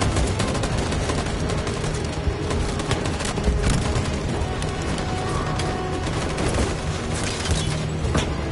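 Heavy, sustained gunfire in Detroit: Become Human, a continuous loud barrage of rifle shots and booms with no letup throughout.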